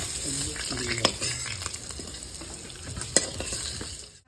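Eggplant slices fry in hot oil in a village-style kitchen, a continuous close sizzle with a few sharp clinks of a utensil against the pan and light stirring, no talk.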